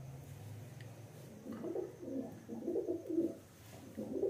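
Pigeons coo softly and repeatedly in a rooftop loft, their low throaty calls coming in overlapping bursts, fairly near but faint, with no talking.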